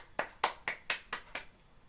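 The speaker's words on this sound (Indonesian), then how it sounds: "tepukan tangan untuk kita semua" A classroom of children claps in unison, six sharp claps in a quick, even rhythm that fade slightly toward the end, close and with no talk.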